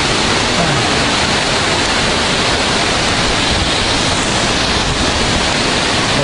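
A waterfall at Plitvice, Croatia, produces a loud, constant roar of rushing water that fills the whole stretch without a break.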